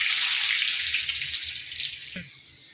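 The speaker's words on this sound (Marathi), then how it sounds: "हा जो लसूण मी बारीक करून ठेवलेला आहे तो लसूण घालायचा" Chopped garlic sizzling in hot oil with mustard seeds, a steady close frying hiss that fades near the end after a brief clatter.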